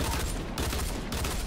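Bursts of gunfire from the Fortnite battle royale video game, a dense stream of shots running steadily through the moment at an even level with no speech.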